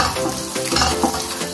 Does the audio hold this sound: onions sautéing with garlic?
yes